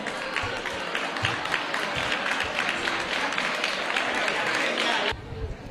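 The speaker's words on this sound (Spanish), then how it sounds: "Pues un aplauso para el Instituto Elbrocense." An audience claps for the Instituto Elbrocense of Cáceres at a geology olympiad award ceremony, steady crowded applause with a few louder claps, cutting off abruptly near the end.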